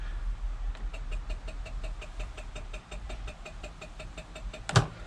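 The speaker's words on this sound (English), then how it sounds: "Let's just see if we can hear the clicking." A Honda moped's starter clicking on a flat battery, a rapid, even series of faint ticks over a low background hum, ending with one louder knock.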